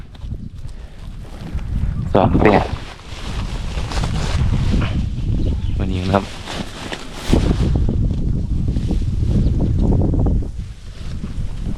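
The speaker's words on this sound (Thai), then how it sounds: "รับลมหนาวครับ" Cold wind blows across an outdoor spot by a natural pond, buffeting the microphone with a loud, continuous low rumble while someone talks over it.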